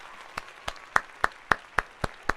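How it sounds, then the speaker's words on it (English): Sparse, evenly spaced claps, about eight sharp hits over two seconds, sounding like a single person or a few people slowly clapping after a livestream host asks for a round of applause. "Can we get a round of applause?"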